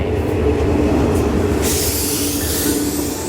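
A train bound for Bangkok rumbles steadily past at close range near Korat, Thailand, a loud continuous roar of wheels on rails with a brighter metallic hiss rising partway through.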